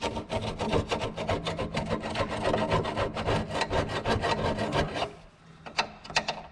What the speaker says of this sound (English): I've got to scrape the brake pipes, apparently.